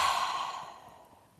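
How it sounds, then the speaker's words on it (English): A single long, deep breath, a breathy sigh-like exhale that starts strong and gently fades over about a second, close and alone with no talking. "Take a big deep breath."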